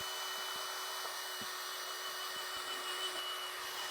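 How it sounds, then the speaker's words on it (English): A power drill runs steadily at full speed, a thin, constant high whine with a faint mechanical buzz and a few soft clicks, heard alone. "you can pop it in your drill, tighten the thing up, and then suddenly, without any effort, run it at full speed"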